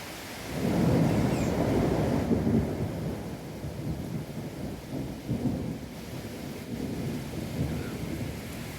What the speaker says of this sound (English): there's just a lot of rain